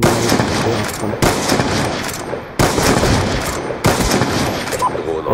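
Rapid automatic gunfire in the Call of Duty: Black Ops 2 video game, sustained bursts of loud, continuous shots broken by brief pauses about every second and a half, with a voice talking over it.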